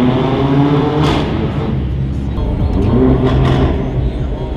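A Mercedes CLA45 AMG (C117) with an iPE exhaust system accelerates inside a tunnel, giving a loud, continuous engine drone with a few crackling pops on top.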